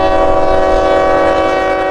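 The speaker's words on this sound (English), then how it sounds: "A local train, L700, is arriving from Bradenton and taking that turnout into the yard." CSX local freight train L700 arriving from Bradenton and taking a turnout into a rail yard, a loud steady rumble of engine and wagons with sustained tonal hum close by, no talk.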